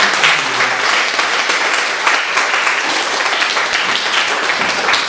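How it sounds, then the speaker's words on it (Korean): Congregation applauding at a Sunday church service, a dense, steady wash of clapping from many people lasting the whole stretch without talk. "우리 다 같이 박수로 축하하겠습니다."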